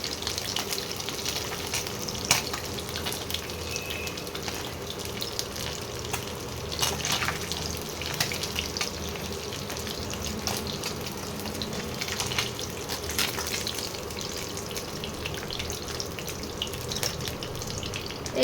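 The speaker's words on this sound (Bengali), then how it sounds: "এইভাবে আমি প্রতিটা মাছকে ভেজে নেব, ভেজে আর তুলে নিচ্ছি।" Pabda fish fry in hot oil in a home kitchen pan, giving a steady, close hiss and crackle that runs unbroken with a few sharper pops and faint clinks along the way.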